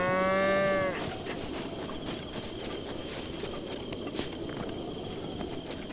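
Cattle in Zelda Breath of the Wild give a loud, close moo lasting about a second. Afterwards, soft rustling and plodding steps carry on over a busy outdoor game ambience without talk.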